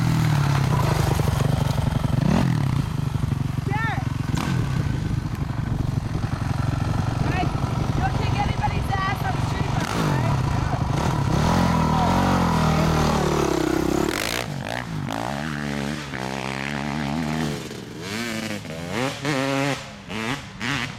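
A street motorcycle engine roars and revs hard during a wheelie, loud and sustained with changing pitch, under excited voices and outdoor commotion, then the sound drops as the bike pulls away.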